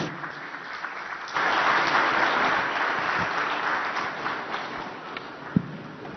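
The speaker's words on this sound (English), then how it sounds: "this deserves a louder round of applause from everyone here, please" Sustained crowd applause at a conference opening ceremony, dense steady clapping that swells after a moment and continues loudly throughout.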